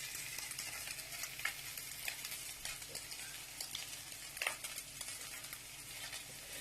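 Persian jeweled rice sits on high heat in a pot to form a tahdig crust. The oil underneath gives a soft, constant sizzle and crackle with faint stirring clicks, fairly quiet and without talk.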